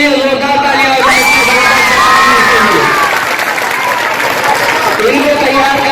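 Loud crowd of schoolgirls and audience cheering, shouting and applauding at a school mushaira, a dense sustained roar with high excited voices and whoops throughout.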